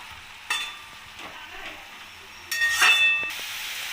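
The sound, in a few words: cabbage frying and being stirred in a pan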